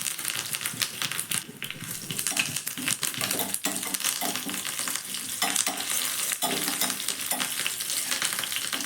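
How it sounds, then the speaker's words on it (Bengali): Ginger pieces and curry leaves fry in hot oil in a pan, a dense, continuous crackling sizzle with rapid popping and occasional spoon clicks against the pan, close and loud throughout. "কারি পাতা দেওয়ার পরও ভালো করে ভেজে নেওয়া হয়ে গেছে"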